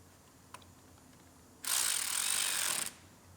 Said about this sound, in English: using an electric ratchet just to annoy the tool experts